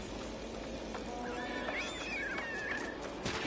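An alien pig creature in No Man's Sky gives a series of high, warbling squealing calls, rising and sliding in pitch, heard over a steady hiss of game ambience with no talking.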